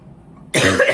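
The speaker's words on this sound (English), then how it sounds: "It's the tail end of the cough" A single sharp, loud cough from a woman bursts out suddenly and close after a moment of quiet.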